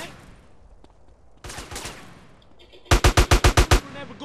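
Gunfire in GTA San Andreas, with a few scattered shots followed by a sharp, loud burst of about seven rapid evenly spaced automatic rounds close by.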